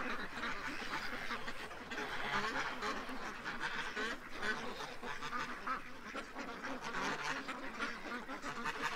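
Ducks by a pond keep up a busy chorus of overlapping quacks and honking calls, moderately close, with no talking.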